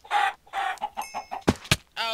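Chickens in the Minecraft video game cluck in a series of short, clipped bursts, close and fairly loud, with a few sharper squawks near the end.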